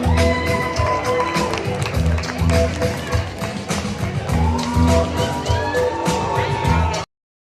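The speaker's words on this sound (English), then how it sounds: "let's give a warm round of applause and a big welcome to Ajay Kumar." Wedding guests at a sangeet clap and cheer in a lively, sustained burst of applause close by, with whoops and voices mixed in over background music.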